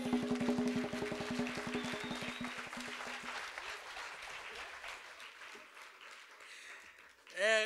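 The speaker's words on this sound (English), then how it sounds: "And a big round of applause, ladies and gentlemen, again." An audience at an arts and culture event applauds steadily, the clapping fading gradually as music underneath drops out. A voice cuts in briefly at the end.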